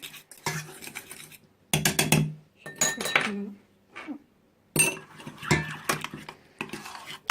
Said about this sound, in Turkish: Şimdi yumurta sarısı ve yoğurdu birbirine yediriyoruz.